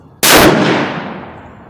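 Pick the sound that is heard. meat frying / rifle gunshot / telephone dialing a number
rifle gunshot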